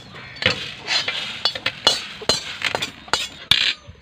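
Roasted herbs scraped and shifted onto another plate with a utensil, producing a series of sharp metallic clinks and taps at uneven intervals, close and fairly loud.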